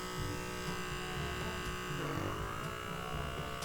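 A Dermasuction blackhead and pore cleaning suction tool running, giving a steady close electric buzz with a shifting tone midway as it works over the skin.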